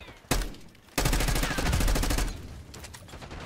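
XM4 rifle fire in Call of Duty: Black Ops 6 multiplayer, a single sharp shot and then a sustained fast automatic burst lasting over a second, loud and close, fading into ambient game noise.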